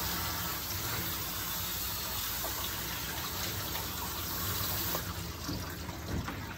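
A steady, continuous spray of water runs close by as a Maltese/Shih Tzu mix is rinsed during grooming, with no talk.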